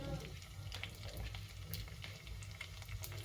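Mustard seeds, cumin and green chilli sizzling in hot oil: a close, continuous sizzle studded with quick pops and crackles, fairly soft.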